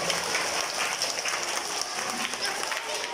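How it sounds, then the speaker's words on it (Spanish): An audience at a children's show by the Escuela de Arte y Cultura breaks into steady, dense applause that holds evenly for a few seconds, with a faint murmur of voices underneath. "un aplauso para la Escuela de Arte y Cultura"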